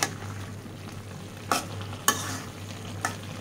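Small fish cooking with cauliflower and potato in a pan, stirred with a low steady sizzle and a constant hum underneath, broken by three or four sharp spoon-on-pan scrapes at irregular intervals.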